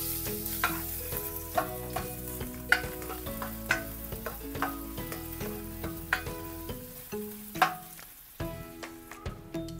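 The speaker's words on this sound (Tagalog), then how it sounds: "Kapag mainit na yung mantika, lagyan na natin itong luya." Ginger sautés in hot cooking oil for miso sinigang with red snapper, a continuous close sizzle broken by repeated sharp stirring clinks and scrapes of a utensil in the pan.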